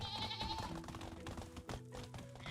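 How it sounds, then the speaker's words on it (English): Sheep bleat in the medieval farming game Medieval Dynasty, a few wavering cries over a busy background of game ambience and music. "Oh, and here's where sheep are."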